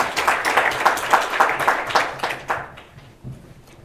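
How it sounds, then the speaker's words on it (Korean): An audience claps to welcome a professor at a university graduate-school admissions information session. The individual claps are distinct and rhythmic, moderately loud at first, then thin out and trail off into a few scattered last claps. "박수로 환영해 주시기 바랍니다."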